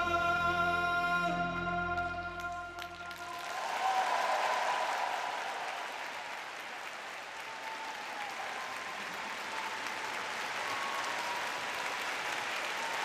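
A large arena crowd in Yokohama, Japan bursts into loud, sustained applause and cheering after a men's short program figure skating performance, following a closing musical chord that cuts off, the clapping filling the space steadily to the end.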